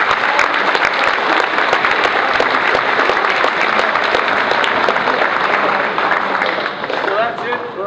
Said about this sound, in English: We have a round of applause for them, please.